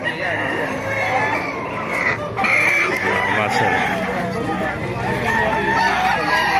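Chickens and roosters at a poultry breeding farm in Baliwag, Bulacan, crowing and clucking close by in a continuous chorus, with someone talking over them.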